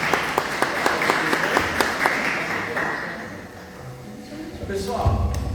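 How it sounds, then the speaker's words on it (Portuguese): Audience clapping at a business seminar, rhythmic hand claps that fade out after a few seconds, followed by a voice speaking. "O Luiz adora palmas e palmas nos traz muita energia"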